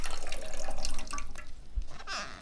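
Water squeezed by hand from soaked sphagnum moss used for propagating rex begonia leaves, a close wet trickling and dripping that runs steadily, then eases off and picks up again.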